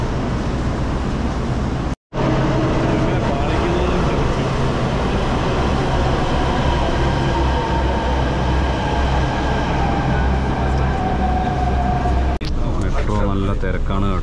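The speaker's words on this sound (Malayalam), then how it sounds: "നമ്മളെ ഡൽഹി മെട്രോ എന്ന് പറയുന്നത് മുകളിലൂടെ അല്ല കേട്ടോ, അണ്ടർഗ്രൗണ്ടാണേ" An underground Delhi Metro train runs through a tunnel with a loud, steady rumble and rising whine, heard from inside the car, briefly cut out near the start, with a speaking voice inside the train.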